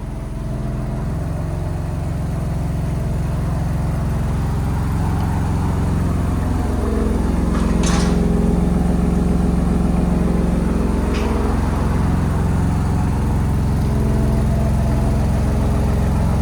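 A 2024 Ford Ranger Raptor's 3.0L twin-turbo V6 idles in quiet mode through an aftermarket exhaust, a steady, close, low rumble with a slight dip and swell midway and no talking.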